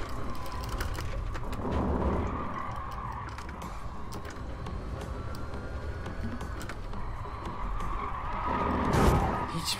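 Racing game engines roar and tires skid amid a noisy multi-car pileup in GT Sport with a Tesla Model S, a dense rumbling wash with a loud impact swell near the end.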